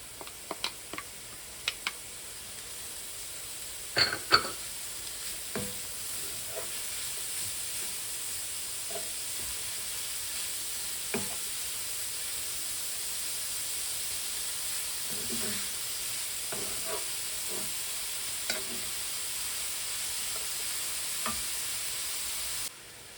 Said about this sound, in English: Once the onions and garlic are turned golden, add the mushrooms and saute together.